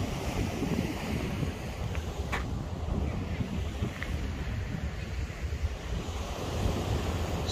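Steady wind and rolling surf wash across a beach, a constant broadband roar close to the microphone with gusts buffeting it, continuing alone without speech throughout.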